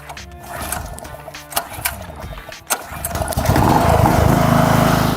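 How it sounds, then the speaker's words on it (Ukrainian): A Vitals JBS 2.8bg petrol-gas generator engine cranks with a few sputters and catches, then settles into a loud, steady running drone. "Запускаємо двигун."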